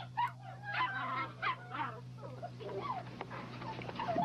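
American Pit Bull Terrier pups yip and whimper in a yard, a cluster of thin, high cries close by, with faint voices and a low hum underneath.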